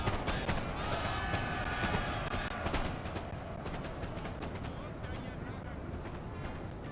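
A musket and artillery salvo in Napoleon Total War makes a dense rumbling roar of massed firing that fades into a scattered crackle of individual shots, while a voice talks over it.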